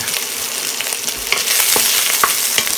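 Beef sizzles in a hot stir-fry pan, a steady close crackle broken by scattered sharp pops, with no voices.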